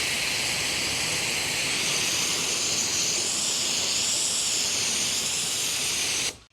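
A Tool Daily chemical injector foam cannon on max sprays soap at high pressure, making a loud, continuous rushing hiss with a slight warbling tone that cuts off abruptly at the end, no talking.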